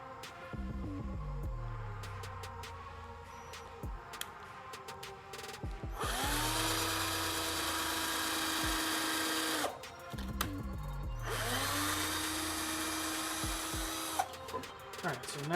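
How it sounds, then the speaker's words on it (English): A power drill bores pilot holes in wood and drives screws, with two long steady whirring runs that wind up and stop, plus shorter bursts and clicks in between, close and loud. "I'm going to drill my pilot hole, back my drill bit out"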